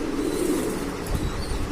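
Domestic pigeons of Lahori and Sherazi breeds give a soft, low cooing call against a steady murmur of background noise, fairly close.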